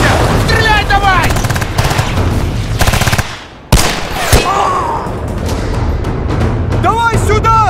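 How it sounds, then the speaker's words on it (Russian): Battlefield Bad Company 2 combat with dense, loud automatic gunfire, rapid rattling bursts and heavy booming impacts layered throughout, while voices shout over the battle. "Просто отстреливайся! Стреляй давай!"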